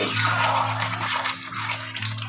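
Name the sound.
water poured into cooking meat curry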